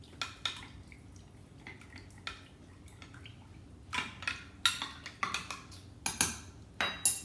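A utensil stirs a cornstarch sauce for beef and broccoli stir fry in a bowl, making soft clinks and wet taps that come in quicker bursts toward the end, close and fairly quiet, with no speech.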